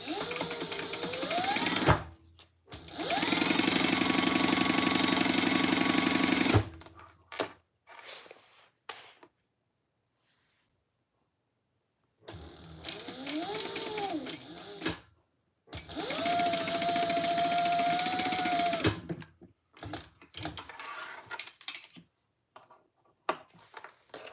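A sewing machine bastes fabric while a quilted bag is being made, with long bursts of steady mechanical whirring and stitching separated by quiet gaps and small handling clicks.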